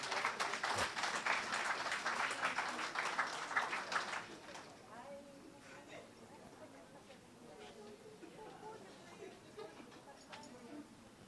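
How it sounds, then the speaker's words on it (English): An audience at a grants presentation ceremony claps in a burst that lasts about four seconds and then fades, followed by quieter room sounds and low voices. "Give them a round of applause, please."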